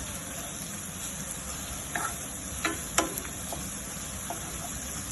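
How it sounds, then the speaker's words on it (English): Ginger garlic paste and a bay leaf sauté in a pan for a Hyderabadi veg dum biryani, a soft steady sizzle with a few light spoon scrapes and taps over a constant high background hiss. "Make sure the ginger garlic paste gets sauteed in there very well."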